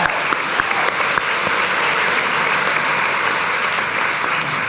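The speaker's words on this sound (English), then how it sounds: "So big round of applause." An audience at a comedy debate applauds loudly and steadily, a dense wash of clapping from a large crowd that holds throughout.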